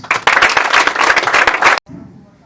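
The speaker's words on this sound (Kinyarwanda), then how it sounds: "Ndasaba ngo dukomere abanyeshuri amashyi" Applause for students at a church gathering: a dense, steady burst of many hands clapping close up for nearly two seconds, then stopping abruptly into a quiet room with faint low murmuring.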